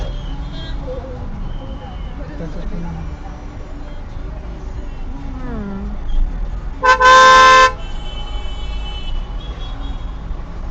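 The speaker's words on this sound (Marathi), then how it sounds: "मग ट्रॅफिक जाम होणार नाही तर काय होणार" Road traffic jam with a steady rumble of engines and road noise, broken by one loud, sustained car horn blast partway through.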